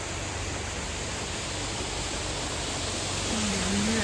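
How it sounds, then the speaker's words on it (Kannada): Water flows steadily in a stream, a continuous loud rushing hiss close to the microphone with no pauses. "ನೀರಿನ ಸೌಂಡ್ ಕೇಳಿಸ್ತಾ ಇದೆಯಾ"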